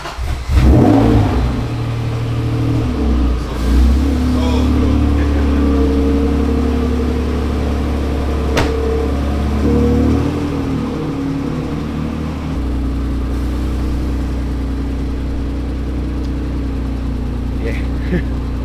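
A lowered JDM car on air suspension, its engine revving and droning steadily while driving, loud and close throughout with a sharp rise near the start.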